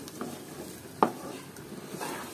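Powdered milk is being mixed into rice in a pot for plain Bangladeshi pulao, heard as soft, close stirring and grainy rustling with one sharper knock of the spoon against the pot partway through.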